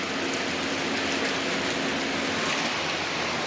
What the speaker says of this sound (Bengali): আর এইদিকে ঝমঝমিয়ে বৃষ্টি হয়েছে